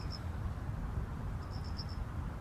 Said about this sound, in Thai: ถ้าเกิดใครไม่ได้ยินลองฟังดี ๆจะมีเสียงจิ้งหรีด